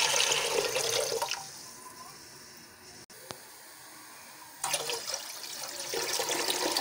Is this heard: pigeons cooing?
no